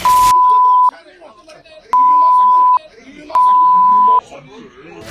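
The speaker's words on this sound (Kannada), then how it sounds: "ಬೀಪ್ ಹಾಕಿ ತೋರಿಸೋ ಪ್ರಯತ್ನ ಮಾಡ್ತೀವಿ" Three loud, steady censor beeps, each lasting under a second, cutting over a man's speech that continues between them.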